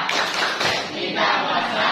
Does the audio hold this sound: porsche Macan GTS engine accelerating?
no